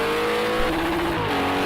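GT3 race car in a racing video game accelerating out of a second-gear corner at Portimao, engine note rising steadily and loud with a faint tire squeal, no talk.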